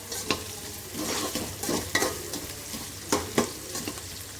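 Ingredients for a river fish curry sauté in a pan, a steady sizzle broken by several sharp scraping stirs of a spatula, close and alone without talk.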